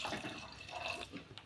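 A glass of water pours into a pot of lentils and turmeric for a pressure-cooker dish, a soft, close, gurgling splash that fades over a second and a half.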